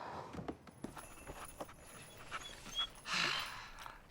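A dog pants softly and irregularly, with faint shuffling and a few small thumps nearby, quiet and close, and a breathier burst near the end.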